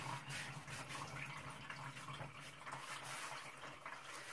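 Water runs steadily into a bathtub with a constant, faint splashing rush that stays even throughout, with no talking.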